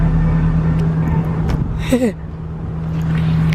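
A CL car with a muffler delete drones steadily inside the cabin, a low, loud, constant exhaust hum, with a brief voice rising over it midway.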